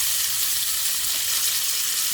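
Butter sizzling loudly in a hot pan alongside an entrecote steak, a steady bright frying hiss over a low heat with no talking.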